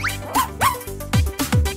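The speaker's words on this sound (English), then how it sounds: "Now your dog can let you know what it needs." A dog barks and yips several times in quick succession, close and loud, the short sharp calls coming in an uneven rhythm with a few whiny, rising tones.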